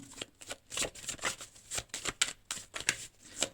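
Tarot cards shuffled by hand in quick, rhythmic bursts of riffling and flicking, close and fairly clear, with no voices over them.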